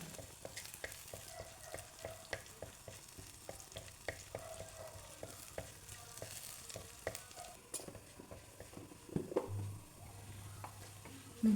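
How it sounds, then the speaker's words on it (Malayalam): Fenugreek, garlic and ginger frying in coconut oil in a pan for a snakehead fish curry: a steady close crackling sizzle broken by frequent sharp clicks and scrapes of stirring, with no voices. "പിന്നെ വെളുത്തുള്ളി ഇഞ്ചിയും കൂടി ഇട്ടിട്ട് മൂപ്പിക്കുക"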